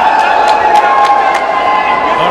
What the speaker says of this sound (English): the crowd certainly seems to be enjoying it.